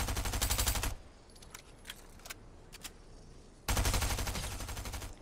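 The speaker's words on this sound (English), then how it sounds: "Try to shoot him down." Automatic gunfire in a Fortnite Chapter 3 match, loud rapid bursts at the start and again near the end, with a quieter stretch of scattered single shots and clicks in between.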